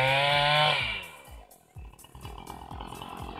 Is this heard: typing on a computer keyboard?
no